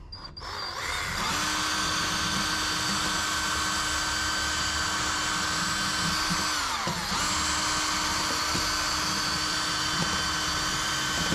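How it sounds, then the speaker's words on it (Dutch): Power drill whirs steadily as it bores further into an existing hole, a loud continuous high-pitched whine that dips briefly partway through before resuming at full speed. "Dan gaan we even verder boren."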